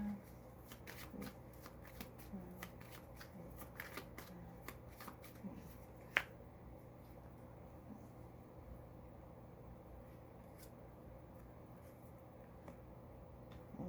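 Cards are shuffled over and over and dealt for a tarot-style card reading, a quick riffling patter of soft slaps and flicks close up, with a faint low hum steady in the background.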